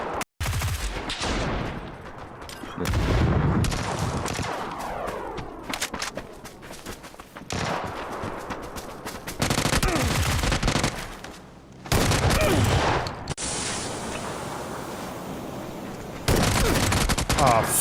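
Rapid bursts of gunfire from the battle royale game PUBG, several loud volleys separated by brief pauses, with occasional footsteps and a voice talking in between.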